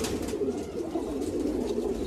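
Racing pigeons kept in a loft coo softly and continuously, a low steady murmur of several birds close by with no talk over it.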